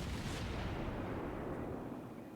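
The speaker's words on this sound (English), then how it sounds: "he can already start shooting at the New York." Deep, rumbling broadside gunfire from battleships in World of Warships, a sustained heavy boom with a long rolling low-end tail that slowly fades across the moment, with no voices.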